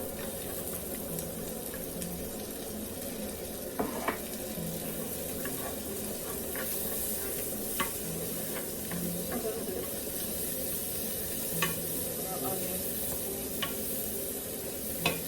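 Onion sizzles in salted butter in a pan for Jamaican steamed fish, giving a steady close crackle with occasional light clinks and stirring scrapes, and no one speaks.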